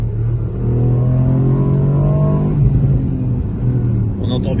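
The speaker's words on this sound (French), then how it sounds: "la double déflagration à l'échappement quand tu changes la vitesse" A Ford Puma ST engine revs hard in a low gear, its steady drone rising in pitch before a brief break at the gear change, then pulling again, with faint crackle and voices talking over it.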